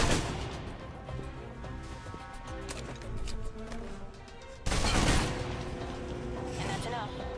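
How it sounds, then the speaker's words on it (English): Rapid submachine gun bursts from the video game Alpha Protocol clatter through a close-quarters fight, dense and loud, layered over a busy game soundtrack, with a sharp jump in intensity midway. "If you're trapped in close quarters with multiple opponents, the SMGs can help clear the room quickly."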